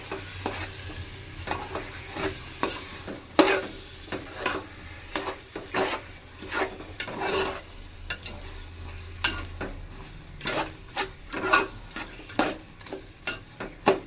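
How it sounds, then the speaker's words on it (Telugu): A spoon stirring a mutton biryani mixture with yogurt in a pot, with repeated scraping and clinking against the metal at an uneven pace, close and moderately loud over a faint background hum. "ఇది మొత్తం బాగా మిక్స్ చేసుకుందాం"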